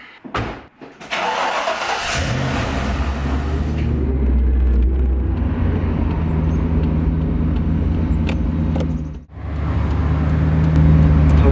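A Mazda Miata fitted with a 5.0 V8 engine and a Tremec T5 transmission fires up with a loud close crank and settles into a deep, rumbling run, the engine note swelling before pulling away.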